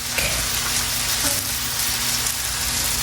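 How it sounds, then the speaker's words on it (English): Freshly chopped garlic frying in hot oil for chicken fried rice, a steady close sizzle with light crackling and occasional small pops, no talking. "cook the garlic. I chop garlic, fresh garlic."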